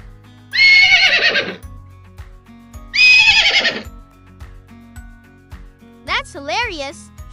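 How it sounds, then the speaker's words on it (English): Unicorn neigh sound effect in Scratch with its pitch changed: two loud, shrill whinnies separated by a pause, then a shorter warbling, pitch-shifted neigh, over soft rhythmic clip-clop. "which can make our unicorn's neigh sound higher or lower, like a tiny unicorn or a giant one"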